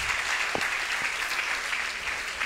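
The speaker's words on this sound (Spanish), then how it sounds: "Otro aplauso para Nacho, fuerte." An audience claps together at a health-products business opportunity meeting, a dense, steady burst of applause filling the room throughout, with a few sharper individual claps standing out.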